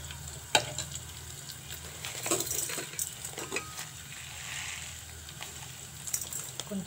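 Garlic and urad dal fry quietly in hot oil for a tempering, a soft steady sizzle broken by a few clinks and scrapes of a stirring utensil against the pan, with no talk.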